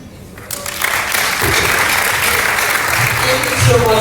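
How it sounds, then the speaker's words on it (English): Audience at a pharmacy week opening ceremony breaks into applause, clapping swelling suddenly after a brief quiet start and continuing loud and dense to the end, with some voices underneath. "Let's give them a round of applause today."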